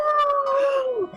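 A human voice imitating a wolf howl, one sustained rising-then-falling wail that trails off with a drop in pitch at the end.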